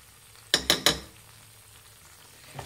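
A spoon stirs chilli flakes and salt into butter and garlic in a pan over a medium flame, three quick scraping clinks close together, then a soft low sizzle and one faint tap near the end.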